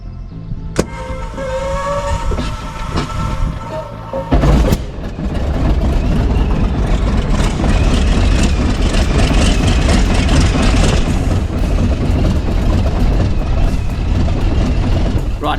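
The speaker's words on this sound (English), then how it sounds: "Have a listen to this startup of the M14 Radial in the Yak 52." A Yak 52 aircraft's M14 radial engine cranks and catches after a brief pause, then settles into a loud, steady, rumbling run close by.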